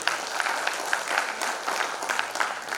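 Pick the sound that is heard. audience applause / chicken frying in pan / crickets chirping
audience applause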